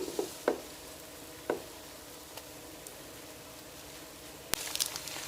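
Browned onions fry in a pan with a soft, steady sizzle, punctuated by a few faint clicks and stirring scrapes, quiet and close.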